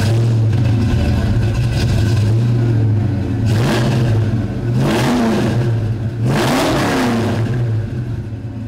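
A loud Fox body Ford Mustang exhaust with a Flowmaster 2.5-inch stainless steel cat-back system idles with a deep rumble, then revs sharply three times, each rev rising and falling back to a steady idle.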